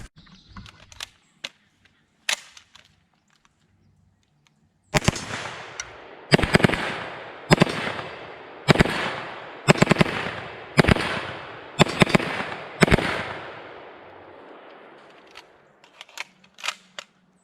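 Shots from an H&K SP5 pistol ring out in a steady string of about eight sharp, loud reports, each trailing off briefly, with a few scattered lighter pops before and after.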